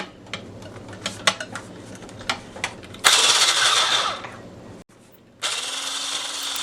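Whisking keto pumpkin pie filling made with canned pumpkin in a bowl: quick scraping taps at first, then a dense, steady whirring rasp of the whisk that briefly stops and resumes, close and fairly loud.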